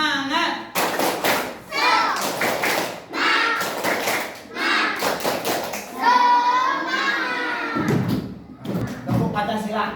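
A primary-school class stands and performs a rhythmic spirit clap, bursts of hand claps and thumps alternating with children's chanting voices in short, loud phrases.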